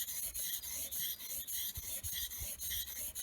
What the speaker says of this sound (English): just the final little nib on the edge is what you finish off with an oil stone